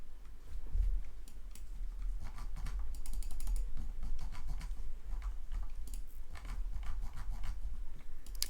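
Commands typed on a computer keyboard, a rapid close run of clicking keystrokes in irregular bursts with brief pauses, continuing throughout.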